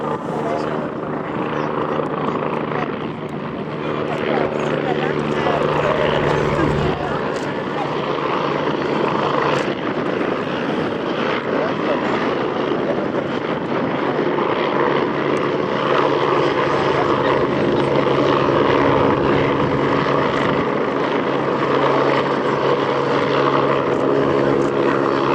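An AgustaWestland A109 helicopter landing at the RAF Cosford airshow, a steady, loud rotor and engine drone filling the whole stretch with broad rumbling texture, while an announcer talks over it throughout.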